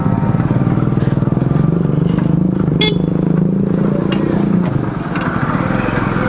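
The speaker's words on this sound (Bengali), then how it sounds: "এই রাস্তাতে খুব একটা জোরে বাইক চালানো যায় না।" A motorbike ridden slowly along a rough rural road, its engine chugging loudly and close, with rattling and clattering from the uneven surface throughout.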